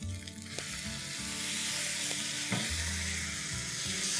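Ground tomatoes hitting ginger-garlic paste frying in a pan for Indian chicken bharta, a loud, steady sizzle with a sharp burst at the start and scraping stirs throughout.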